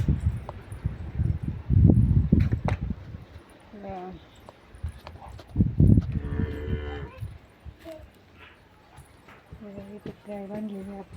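A tied cow on a farm moos a few times, the calls loud and near, with people talking in between.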